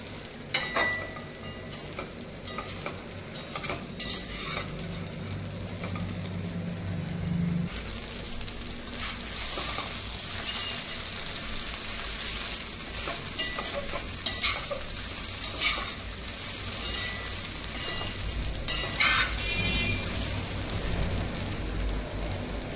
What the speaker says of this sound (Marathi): हा थोड्या वेळ सारखा असा परतून घ्यायचा।